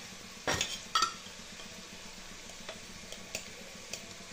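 Spices and yogurt stirred into a vegetable curry in a pan, with two sharp clinks of a spoon against the metal followed by faint scraping and light taps, close and quiet, no talking.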